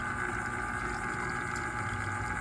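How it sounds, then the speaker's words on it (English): A small water pump runs steadily in a homemade hydroponic vertical grow tower, giving a continuous, fairly loud hum with a watery rush. "I got the pump back on, and looks like there's a little bit of pumping pressure"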